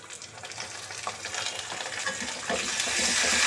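Onion paste frying in a pan after browned onions, a close, steady sizzle that builds louder and brighter over a few seconds, with no talking.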